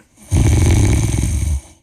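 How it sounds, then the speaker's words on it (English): One loud, close snore, a single long rasping inhale of just over a second, standing alone against quiet. "I don't even know that he snores"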